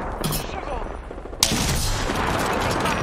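Gunfire in the video game Apex Legends: a brief sharp shot early, then a sudden loud blast that opens into sustained dense firing, close and continuous.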